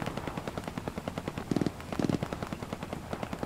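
Machine gun fire in the video game Hell Let Loose rattles in rapid, fairly distant bursts, with two louder, closer volleys partway through and no talk.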